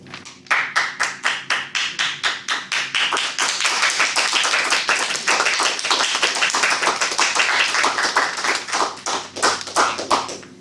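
Applause at a Toastmasters meeting, starting as a few separate claps that swell into rapid rhythmic clapping from a small group of people, close and fairly loud, then easing back toward distinct claps at the end.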